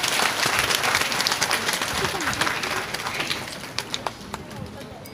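An audience at a student and teacher felicitation ceremony applauds with dense, sustained clapping that gradually thins into scattered individual claps, with a voice faintly heard in the background.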